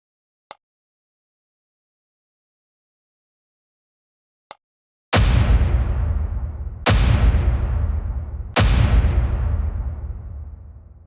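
Rocket weapon strikes in the WipEout Gauntlet racing game: two faint ticks, then three loud, booming blasts in quick succession, each decaying into a rumbling tail.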